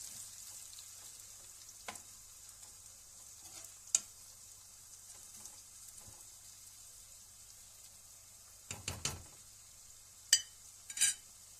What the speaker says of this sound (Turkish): Şimdi bunu böyle kavuracağım. Bu biraz yağın içinde kavrulsun.